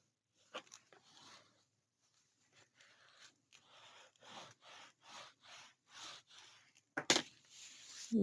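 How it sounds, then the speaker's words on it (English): Cloth burnishing the edges of paper on a craft album, a series of soft, quick rubbing strokes coming in short bursts with brief pauses, close and quiet, ending in a sharper scrape. "I'm burnishing all around the edges with my cloth"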